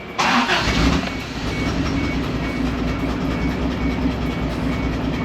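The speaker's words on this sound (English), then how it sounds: "It does have an exhaust leak around the muffler area, so that is a little loud" A pickup truck's loud, steady engine rumble with a rough, raspy exhaust note from a leak around the muffler, running continuously after a sharp start, no voices.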